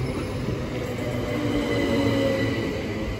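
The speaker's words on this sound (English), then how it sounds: "The 2006 Southeastern service from London Victoria to Dover Priory via Faversham and Canterbury East." A Southeastern Class 375 electric passenger train on the London Victoria to Dover Priory service passes Rainham station and level crossing with a steady, loud rumble and faint wheel squeal, close by and without talk.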